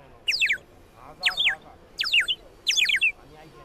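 A children's toy bird whistle at a 2023 international trade fair mimics a myna's call in four separate bursts of sharp, warbling chirps spaced evenly apart, close and clear, with no speech over them.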